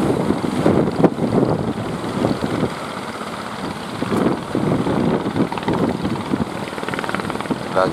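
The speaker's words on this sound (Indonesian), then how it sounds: "Anginnya kencang sekali, guys." Strong wind blowing over open sea off Puger with breaking waves, heard from a fishing boat near Plawangan: a loud, continuous rushing roar with gusty buffeting across the microphone and no speech.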